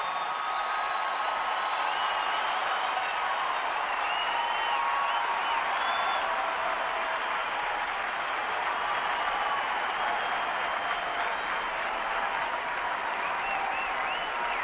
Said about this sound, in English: A standing ovation for Mark DeRosa.